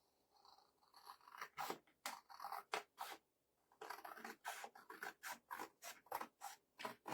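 Scissors snip along printed lines at a craft event, giving a quick series of crisp, close cuts in an uneven rhythm with one short pause partway through.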